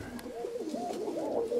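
Pigeons cooing close by in a loft of flying pigeons, a steady run of soft throaty coos rolling continuously through the short stretch with no talk over them.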